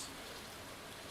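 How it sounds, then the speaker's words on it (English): Steady rain in the Stardew Valley video game on a spring day, a soft, even broadband hiss filling the whole moment with no other sounds. "it is raining, by the way, in spring"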